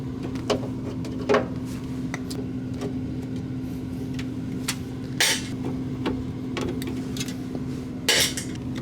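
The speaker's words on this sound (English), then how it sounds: "Now I have to take this cover off of the compressor, and this just has a bunch of Phillips screws." Phillips screws come out of the compressor cover on a soda machine that will not cool, heard as scattered metallic clicks, taps and small clanks over a steady low mechanical hum, close and unhurried with no talking.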